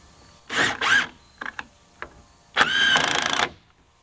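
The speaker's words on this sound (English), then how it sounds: "So I'm just going to get these screwed in from the side," A power driver runs screws sideways into wooden boards that will support a window header in a workshop wall, in two main whirring bursts with a few short clicks and taps between them, close by.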